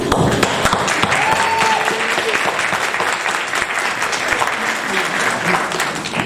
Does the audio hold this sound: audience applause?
yes